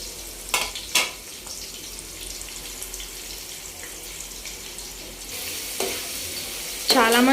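Onions and green chilies frying in hot oil in a pan, a steady low sizzle with a few sharp clatters of stirring early on and a louder burst of sizzling near the end.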